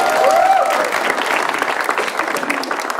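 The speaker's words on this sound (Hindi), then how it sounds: "एक बार उनके लिए तालियां हो जाए।" A crowd at a stand-up comedy roast show claps loudly and continuously, a dense wash of applause that fills the three seconds.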